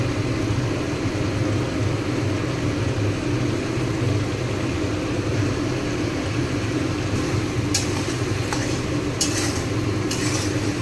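Cumin, coriander and turmeric powders with salt fry in a pan for egg curry, a steady dense sizzle with faint stirring scrapes near the end and no talking.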